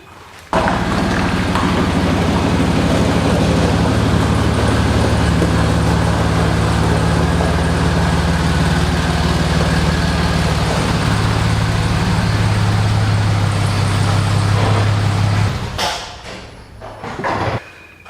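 A G20 van engine runs loud and steady at close range with a low drone and slight shifts in pitch as it limps into a garage, then cuts off near the end, followed by a few clunks.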